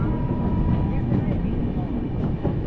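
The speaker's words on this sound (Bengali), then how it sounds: "মুরাদাবাদ জংশন থেকে আমাদের ট্রেন ছেড়ে দিল" Passenger train pulling out of Moradabad Junction in India, a steady low rumble and rolling rail noise heard from inside the carriage, continuous and fairly loud with faint background voices.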